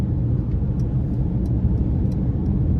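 Heard from inside the cabin, a 2024 Mercedes-AMG GLE 53 Coupe with a turbocharged inline-six accelerates hard, giving a loud, steady low engine and road rumble with no talking.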